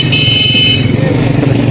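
Motorcycle and street traffic fill Skardu's busiest bazaar, a close, steady engine rumble with a brief high-pitched tone early on.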